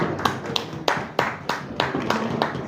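A small audience claps for a guest at a Punjabi film star-cast event, a short burst of close, distinct hand claps in an uneven rhythm, with no talk over it.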